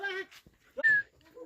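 Dabbu, a dog kept on a farm alongside chickens, lets out short yelping barks and whines, mixed in with people talking nearby.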